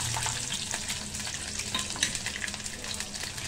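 Cumin, mustard seeds and garlic sizzling in hot oil in a pan, a loud continuous crackle and spatter with occasional stirring scrapes, heard close up with no talking.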